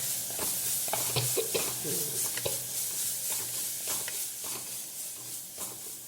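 Chopped onion, ginger and green chili sautéing in a hot pan, with a soft steady sizzle broken by repeated scraping stirs of a spoon, close and fairly quiet.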